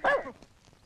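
A dog gives a single short, loud bark up close, which quickly fades into a quiet background.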